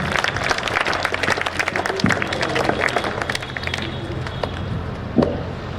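Audience at a school morning assembly applauding, a dense steady wash of many hands clapping throughout with a couple of sharper bursts, no speech over it.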